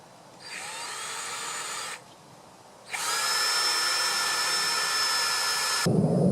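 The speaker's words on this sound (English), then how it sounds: "Pre-drill hole." A power drill whines at high speed in two bursts while pre-drilling a hole for an outdoor table, a short one then a longer steady run, close and loud with a brief pause between.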